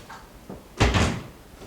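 An indoor door closes with one solid thud, preceded by faint shuffling and fading out afterwards.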